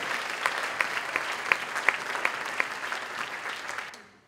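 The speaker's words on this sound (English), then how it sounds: "So let's give him a round of applause." Audience applause at a high school spring band concert with a symphonic band, a steady wash of clapping with a few sharp nearby claps, fading out at the end.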